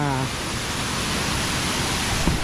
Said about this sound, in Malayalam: ഇത് നിങ്ങൾക്ക് ഫുൾ പവർ മോഡിലാട്ടോ വെള്ളം വന്നുകൊണ്ടിരിക്കുന്നത്